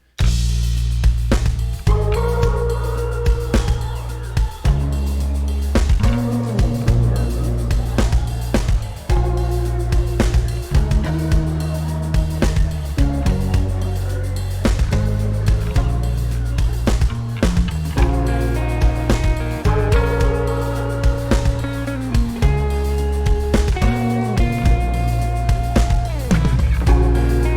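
Layered string instrument music plays continuously for the whole stretch, with steady sustained notes and plucked attacks, loud and up close, with no voices.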